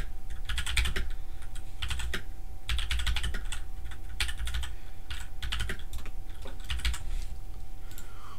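Close, crisp computer keyboard typing in a German streamer's room, the keystrokes coming in quick irregular bursts separated by short pauses, steady throughout with no speech.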